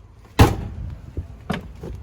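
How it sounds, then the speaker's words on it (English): Range Rover doors shut one after another: a loud solid slam at first, then two lighter thuds, heard close with a quiet pause between them. "I'm going to close all my doors,"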